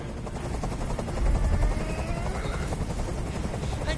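A helicopter in the video game Detroit: Become Human, its rotor thudding in a loud, rapid, continuous beat close overhead, with the roar swelling briefly before holding steady.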